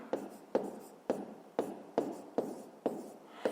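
Pen or pencil writing out a fifth-grade math answer on paper, a series of about eight evenly spaced quick scratchy strokes, close and fairly quiet, with no talking.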